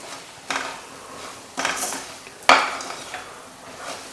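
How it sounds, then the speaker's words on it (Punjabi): Ground pickle spices and vegetables roast in oil in a pan, with a soft background sizzle broken by a few sharp metallic clinks and scrapes of a spoon stirring against the pan. "ਉਹ ਸਾਰਾ ਦਾ ਸਾਰਾ ਪਾ ਦਿੰਦੇ ਇਹਨੂੰ ਇੱਕ ਦਮ ਮਿੰਟ ਲਈ ਭੁੰਨ ਲਓ"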